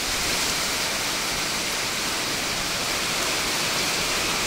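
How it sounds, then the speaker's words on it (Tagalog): Heavy rain falls at sea near a small boat, a loud, dense, steady hiss of downpour throughout with no voices. "Thank you, Lord, kay may ulan."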